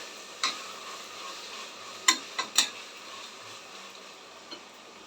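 Two ripe tomatoes soften in a pan for a broken wheat kichadi, giving a low, steady sizzle broken by a few sharp spatula clicks against the pan.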